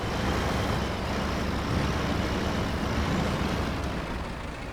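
A truck in the video game SnowRunner drives and turns around, its engine and road noise making a continuous, fairly loud broadband rumble that stays level with no talking.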